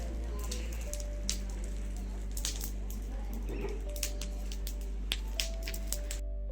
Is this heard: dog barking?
no